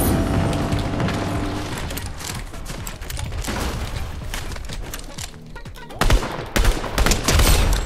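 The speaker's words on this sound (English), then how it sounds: "there was one more gunshot over here somewhere" Rapid bursts of gunfire crackle loudly in a Fortnite Battle Royale match, dense volleys and clattering shots filling the clip with heavier bursts near the end, no talking.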